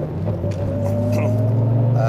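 Close car engine hum from a car with a Pfitzner dog box gearbox, a steady low drone with a slight pitch rise near the end, under someone talking.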